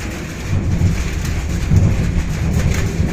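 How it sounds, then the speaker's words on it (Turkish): Heavy rain pours steadily through a thunderstorm while deep thunder rumbles continuously underneath, loud and close, with no voices. "Çok kötü bir şimşek çaktı."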